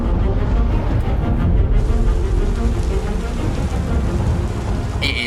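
A heavy storm on Pyro 1 in the Star Citizen video game: dense, steady rain pours loudly throughout, with deep rumbling thunder rolling underneath and a sharper crack near the end.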